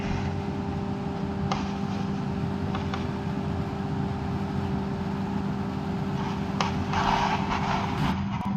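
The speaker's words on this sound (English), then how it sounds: "boy, does that CVT transmission sound so strange" A steady, droning Toyota Yaris engine with CVT transmission in BeamNG, strained and whining, holds at a constant pitch throughout, with no one speaking.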